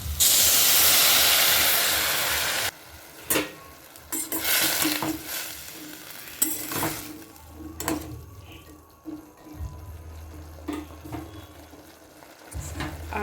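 Stock poured into a pan of fried chickpea curry sets off a loud burst of hissing sizzle for a couple of seconds, which then quiets into intermittent stirring, scraping and softer bubbling.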